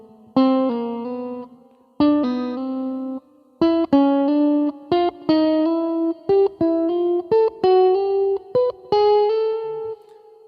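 An electric guitar plays a solo phrase with chromatic embellishments, a string of short, clean picked notes and stepwise slides in a halting rhythm, bright and close with no talking.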